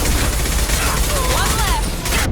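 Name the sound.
gunfire in the video game Mass Effect 2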